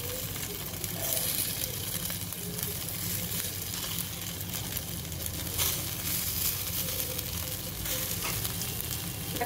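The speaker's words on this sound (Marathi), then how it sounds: "आपल्याला अशा कमी तेलावरच ह्या परतून घ्यायच्या आहेत।" Jowar flour vadis shallow-fry in a little oil in a pan, a continuous bright sizzle and crackle throughout with occasional louder spits and faint stirring scrapes.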